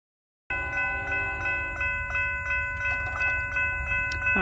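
Florida East Coast Railway freight train FEC 206 approaching at a road crossing on Wilder Boulevard in Daytona Beach, heard as a steady loud rumble with sustained bright horn tones throughout and rail clatter building toward the end.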